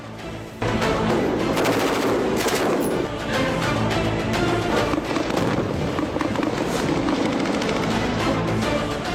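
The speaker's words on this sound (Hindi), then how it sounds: "ये यहाँ पे एसएसजी कमांडोज जो है वो अपनी फायरिंग की प्रैक्टिस करते हैं।" Continuous rapid gunfire at an SSG commando firing range in Pakistan, dense overlapping shots and bursts from many weapons, loud and sustained throughout, starting abruptly after a brief quieter moment.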